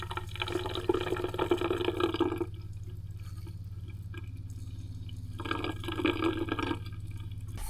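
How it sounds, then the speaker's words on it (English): An indoor faucet in an off-grid cabin is flushed of pink antifreeze, its water rushing in two bursts over a steady low hum, with quieter dripping between them. "Turn water on inside to get all the pink stuff out."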